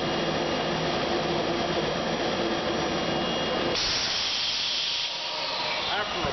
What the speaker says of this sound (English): When you hit start, the table will raise, flap closes, bag inflation starts.